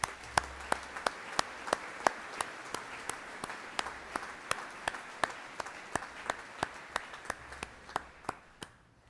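Honor graduates are recognized with applause at a Northwest Iowa Community College summer commencement. It comes as a sparse, fairly distant patter of claps: a few hands in a steady, spaced rhythm, continuing evenly and then thinning slightly toward the end.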